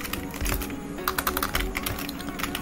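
Clicky computer keyboard typing while a Linux terminal command is entered, a quick run of key presses at close range with a voice speaking intermittently over it.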